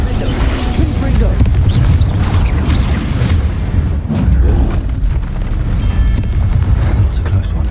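Magic spells such as Confringo burst in a fantasy video game as a string of loud, booming explosions and crashes, with a voice talking over the blasts.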